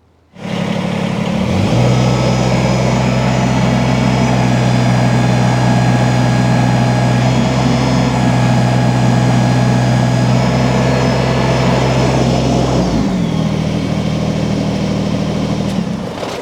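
A Kubota BX compact tractor engine starts up and holds a loud, steady, low droning roar while lifting a heavy load of green red oak firewood for over ten seconds, then eases back near the end.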